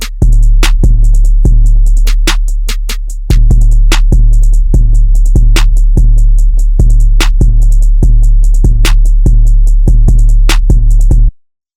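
Rage-style rock beat plays loud and steady, with punchy drum hits, a rapid ticking hi-hat pattern and two layered booming 808 bass lines, all instrumental with no talking.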